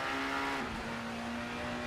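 A BTCC front-wheel-drive touring car in Assetto Corsa held at a steady high-pitched engine drone. A brief dip marks a quick sequential gear change before the revs settle again, loud and continuous throughout.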